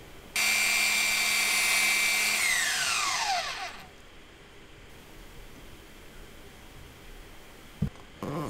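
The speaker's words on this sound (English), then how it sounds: "so I do a little bit of sanding to fix that." A loud power tool whines at high speed for a few seconds sanding a homemade brake pad level, then spins down and stops, followed by quiet and a single knock.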